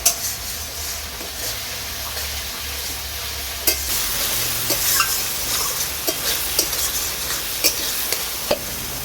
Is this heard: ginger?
yes